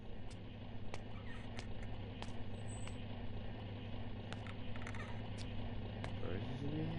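Birds cawing in the game Ether One, scattered sharp calls repeating irregularly over a low, constant hum, moderately distant and faint throughout.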